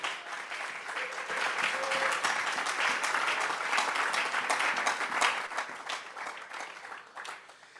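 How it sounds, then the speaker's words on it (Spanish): A church congregation breaks into sustained, dense applause that swells and holds steadily for several seconds, a broad wash of many hands clapping at once before tapering slightly near the end. "Vamos a darle un fuerte aplauso al Espíritu Santo."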